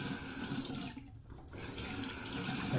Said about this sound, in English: Let's just do a quick rinse here and see.